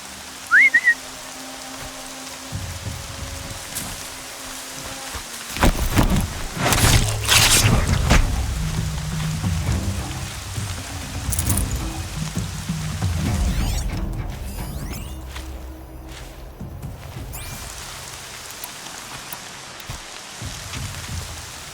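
Steady rain falls in the video game Horizon Zero Dawn, a continuous hiss of drops with some louder spattering and a brief whistle-like tone early on, no talking.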